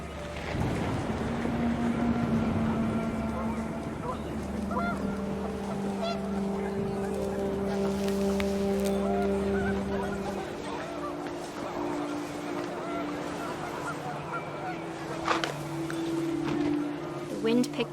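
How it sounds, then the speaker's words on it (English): Panicked geese honk in a flurry of harsh nasal calls over gusting wind in the video game What Remains of Edith Finch, with a steady low droning hum, and talk is heard throughout. "The wind picked up, and panicked geese appeared and quickly went"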